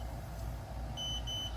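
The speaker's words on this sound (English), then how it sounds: "You can hear my alarm starting to go off already." Cooking timer alarm goes off during bacon cooking, giving a few thin high-pitched beeps that repeat over a low steady background hum; the beeps are fairly faint and short.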